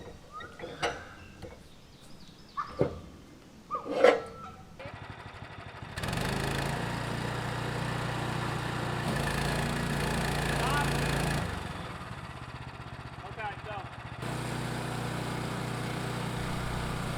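A sawmill engine runs steadily while a maple log is milled, a moderate mechanical drone that starts after a few scattered knocks and clatters and later eases to a lower level.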